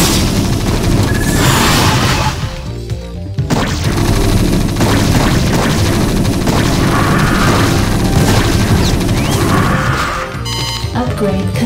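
Explosions hitting a base under attack in StarCraft, loud, overlapping booms and crashes that roll on almost without pause, with brief gaps and game effects between them.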